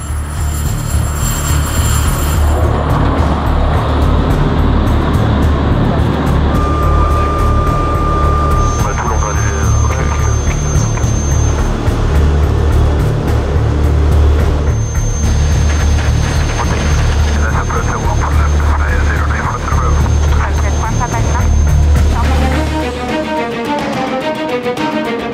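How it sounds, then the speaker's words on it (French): The engines of an Airbus A400M military transport start up and run, a loud sustained roar and whine with tonal propeller hums building over time, while people talk nearby. "La 400M est là, les moteurs vont être mis en route."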